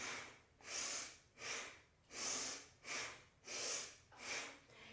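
Rhythmic yoga breathing during a Kundalini flow of spinal twists: about six full, close breaths, each a long airy swell rising and falling at an even pace, with no talk.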